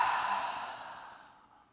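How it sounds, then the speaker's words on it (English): A single slow, soft exhale during a yoga breathing exercise, heard as a breathy hiss that gradually fades away over about two seconds, close and alone. "Breathing slowly, exhale."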